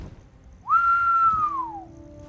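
A single human whistle used to call an animal: one clear, sustained note that rises sharply, holds, then slides gently down over about a second, loud and alone against quiet outdoor background.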